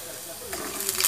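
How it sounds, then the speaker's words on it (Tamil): Chana dal dropped into hot sesame oil starts to sizzle, a soft hiss and crackle that swells toward the end, faint and close, with a voice speaking over it. "எண்ணெய் காஞ்சிருச்சு, கடலைப்பருப்பு போட்டுக்கோங்க."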